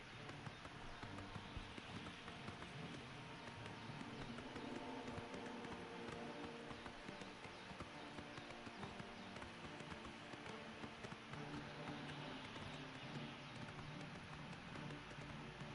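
Steady, rhythmic clip-clop of horse hooves at a brisk pace in the video game Oblivion, continuous and fairly close, with no talking.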